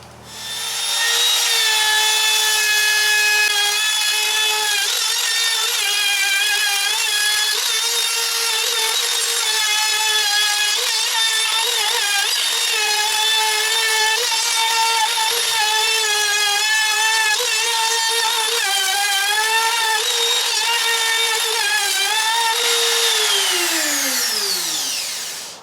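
A power tool trims a Filon fiberglass panel on the side wall of a teardrop trailer, giving a loud, continuous high-pitched whine that wavers with load and spins down at the end.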